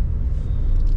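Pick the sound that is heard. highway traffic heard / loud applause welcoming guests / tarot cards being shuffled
highway traffic heard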